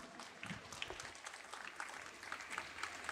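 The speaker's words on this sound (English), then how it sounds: "Please give them a huge round of applause once again." Audience of children and families clapping at a school exhibition and graduation ceremony, soft distant applause that rises and falls unevenly with scattered sharper claps.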